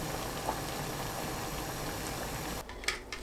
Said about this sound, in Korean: 끓는 물에 두부 넣고 센 불로 2분 데칩니다